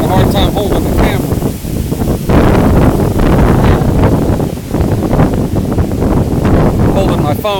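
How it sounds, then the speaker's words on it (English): Powerful wind from Hurricane Irma in Jacksonville, Florida roars and gusts continuously against the microphone, with a voice barely audible underneath the blasting storm. "I can hardly walk. It's so windy out here right now."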